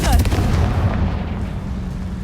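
Confringo blasting curse from the Hogwarts Legacy game: a loud, sudden explosive burst with crackling debris that fades into a decaying rumble over about two seconds.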